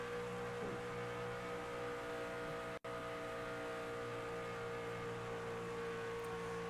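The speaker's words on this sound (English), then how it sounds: "You can hear just how they don't have to lift off the throttle in turns 3 and 4." A steady race truck engine drone at full throttle holds at a constant high pitch with no letup, heard from a distance and fairly faint, with a brief dropout midway.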